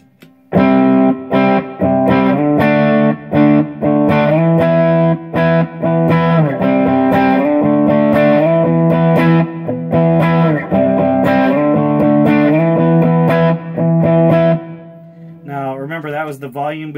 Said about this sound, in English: The volume boost overdrive.